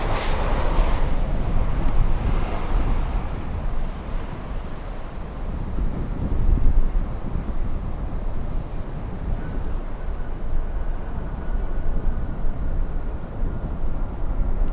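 An American airliner rumbles on runway 9 at Miami International Airport, a broad, steady engine roar at moderate distance mixed with wind buffeting the microphone.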